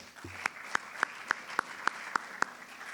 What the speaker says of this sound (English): Give another round of applause to Arav.